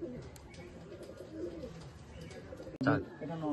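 Pigeons coo softly nearby in a low, repeated murmur, with a louder burst of cooing near the end and a person's voice mixed in.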